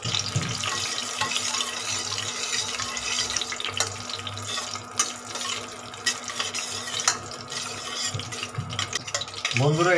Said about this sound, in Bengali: এটা অনেকক্ষণ ধরেই সুন্দর ভাজা ভাজা হচ্ছে